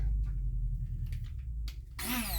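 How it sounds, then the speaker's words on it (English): Stick blender whirring through cream while mixing carrot cake batter, a steady low motor drone that surges louder and higher near the end as the blade bites. "I'll put the stick blender back on"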